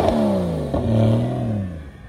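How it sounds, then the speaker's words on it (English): A Porsche Cayman GTS with an Armytrix exhaust revs hard, rising and falling in pitch with a deep throaty growl, close and loud, followed by a second sustained rev. "Cayman GTS running an Army Trix exhaust system. This thing sounds great."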